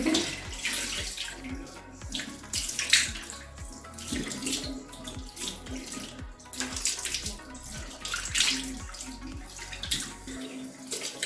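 A bathroom tap runs steadily into a sink while someone splashes water to rinse off a face mask, with irregular splashes and drips over the constant flow.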